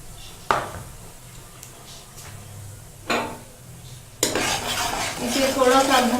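Maize flour being stirred and roasted in a pot for palak saag, with a few sharp spoon scrapes and knocks against the metal, then a louder sustained scraping and rustling stir near the end, close and without talk.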